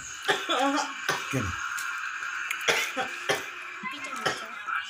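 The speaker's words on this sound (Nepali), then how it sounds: "उसलाई कस कस कस खोकी लगाइरहेछ त्यसरी" Repeated coughs from a person during a family meal, several sharp bursts spread across the moment with talk and light laughter around them.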